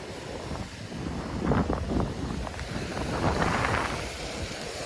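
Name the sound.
strong wind at the sea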